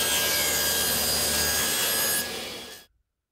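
A woodworker saws wood for a homemade wooden clamp, producing a close, continuous rasping cut that stays steady for a couple of seconds, then fades out and stops abruptly.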